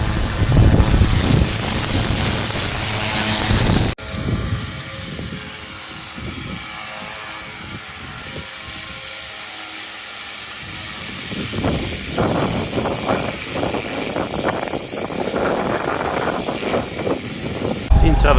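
A pressure washer blasts a whole roof on a windy day, a loud continuous hiss and spray that cuts out abruptly, then returns as a rougher, fluctuating jet with wind buffeting the microphone and a voice speaking now and then.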